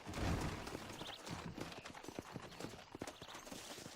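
Hooves clop irregularly on the ground of a corral in Red Dead Redemption as a wild horse shifts about, a heavy thud at the start followed by scattered, moderately close steps.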